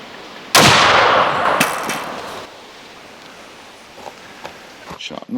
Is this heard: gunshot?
yes